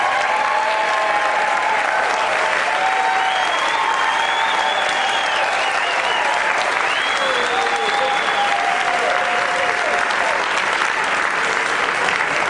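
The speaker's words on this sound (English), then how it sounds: "Give them a huge round of applause." Loud, steady audience applause at a Berkeley theater event fills the room throughout, with cheering voices rising and falling above the dense clapping.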